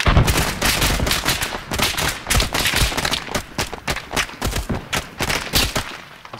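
Rapid gunfire from a multiplayer shooter game rattles on without a break, loud and close, in dense bursts of repeated shots.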